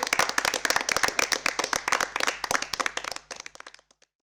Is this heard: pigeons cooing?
no